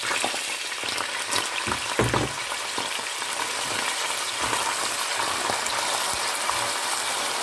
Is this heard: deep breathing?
no